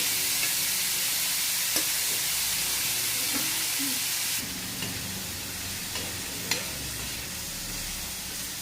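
Onions frying in oil for a soybean chutney, a loud steady sizzle and hiss close up with occasional stirring clicks, the sizzle easing slightly partway through.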